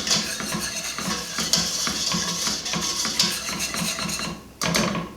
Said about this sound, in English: Make sure you're stirring it occasionally.